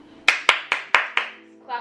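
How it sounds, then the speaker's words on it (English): A single person claps hands five times in a quick, slightly uneven rhythm, each clap close and sharp, then a brief voice follows at the end. "Clap it up."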